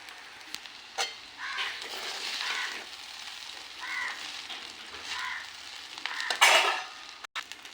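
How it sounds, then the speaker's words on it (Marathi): Green chilli and potato sautéing in oil in a kadhai over a medium flame, a steady quiet sizzle broken by a few clinking strokes of a spoon against the pan. "त्यामध्ये मिरची, त्यामध्ये बटाटा आणि हे चांगलं आता परतवून घ्यायचं आहे मीडियम फ्लेमवरती"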